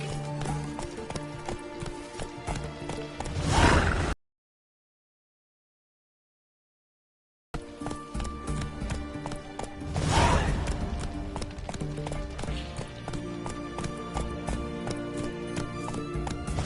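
Roach, Geralt's horse in The Witcher 3, gallops with steady clip-clop hoofbeats, loud and close, beside a game soundtrack; two louder thudding swells and a brief break in the middle.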